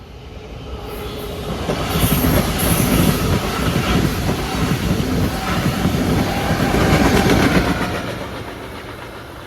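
A CN train with five passenger cars passes a rail crossing at Ewart Street in Strathroy, giving a steady close rumble of wheels and rail noise that swells in the middle and slowly eases off, with no talk over it.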